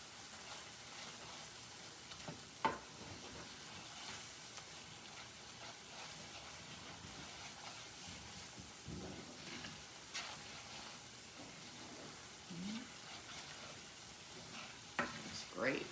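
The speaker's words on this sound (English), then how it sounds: "So I'm going to stir that in and let that cook for just a minute or two." A thickening sauce for cheesy chicken chorizo pasta is stirred in a pan, giving soft, intermittent scraping and faint sizzling at low volume, with a few brief clinks from the spoon.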